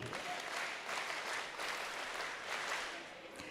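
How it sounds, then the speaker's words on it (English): At a Lasallian university commencement, an audience claps together in a dense, sustained wave of applause that holds steady and then eases off slightly at the end. "Let us give ourselves a resounding Lasallian clap A."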